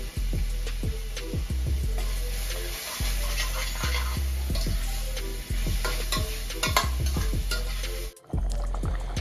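A spoon repeatedly scrapes and stirs a pan of roasting coconut and spices for chicken curry, steady loud sizzling underneath, the strokes coming in an uneven rhythm, with a brief drop near the end.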